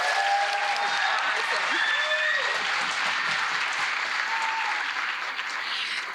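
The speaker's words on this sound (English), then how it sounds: "Can we give her one more round of applause?" An audience applauds at a school band winter concert, loud dense clapping filling the room steadily for several seconds before tapering off.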